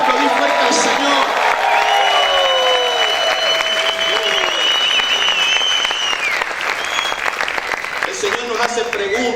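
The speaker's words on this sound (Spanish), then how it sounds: "Yo no sé si hay alguien que pueda gritar y pueda aplaudir fuerte al Señor" A church congregation claps and shouts loudly in praise, a dense sustained wall of applause with whoops and cries rising above it, slowly thinning toward the end.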